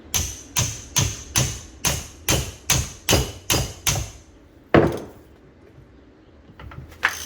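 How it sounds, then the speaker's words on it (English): Repeated hammer blows ring against a tight 5/8 nut on a 1965 Ford Thunderbird power steering gear box, about a dozen sharp strikes in a steady rhythm, then a pause and one last louder clang. "With a hammer."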